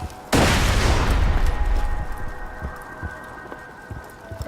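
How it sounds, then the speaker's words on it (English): A grenade blows up in the shooter game Borderlands 2, a sudden loud blast that hits hard and then fades into a long rolling rumble, with a steady faint hum underneath. "Oh, that's a grenade."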